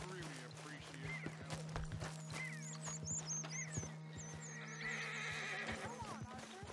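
Horses in the Western video game Red Dead Redemption 2 whinny and neigh repeatedly, close and clear, with hooves clip-clopping and shuffling underneath and someone talking soothingly over them.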